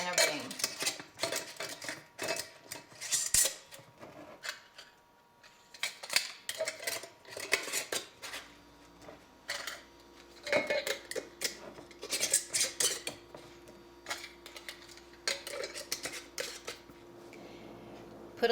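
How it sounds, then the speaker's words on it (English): Clean metal lids and rings go onto jars of survival rice mix with repeated light clinks, taps and small clatters, close and irregular, with quiet gaps between. "And add a clean lid and a ring."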